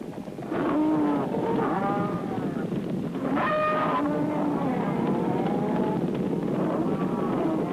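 Cattle on a remote South American ranch low and moo in several drawn-out, overlapping calls, fairly close, over a steady low engine-like rumble.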